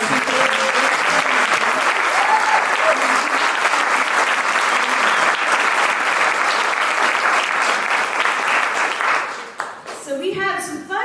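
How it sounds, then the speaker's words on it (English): Loud, sustained round of applause from an audience at an entrepreneurial resources panel in Asheville, steady dense clapping with some cheering that tapers off near the end as a voice starts to speak. "can we give them a huge round of applause?"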